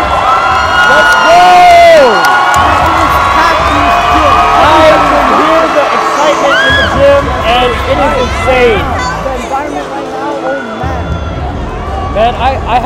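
A lively crowd cheers and shouts in the Kingsway College gym just before a basketball exhibition game against Crawford Adventist Academy, a loud, sustained roar with whoops and voices echoing throughout.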